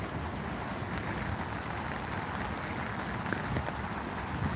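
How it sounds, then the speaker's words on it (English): Heavy rain pours down in Korea, a dense, steady hiss of drops hitting the ground and surfaces, continuous and fairly close with no voices. "It's raining so hard now"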